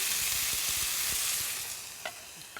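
Mexican egg scramble mixture hits a hot pan with a loud, bright sizzle, and a spurtle scrapes and taps as the mixture is scooped in. The frying hiss fades slightly toward the end.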